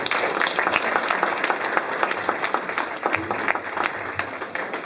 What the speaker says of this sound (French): vos applaudissements, là, pas assez fort.